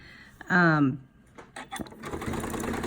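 A sewing machine stitches binding onto a quilt that is pushed through with a quilting paddle; a short vocal sound and some clicks come first, then a steady motor hum near the end.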